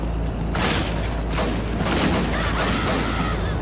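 Dense, continuous gunfire and heavy booms from the shooter game Hatred, loud and close, with repeated blasts layered over a sustained roar of shooting.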